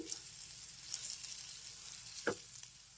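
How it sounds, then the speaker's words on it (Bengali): Curry leaves and raisins fry in a pan, giving a steady bright hiss of hot oil with a single short scrape of stirring near the end. "এখন একসাথে নেড়ে চেড়ে আবার একটু ভালো করে ভেজে নিচ্ছি"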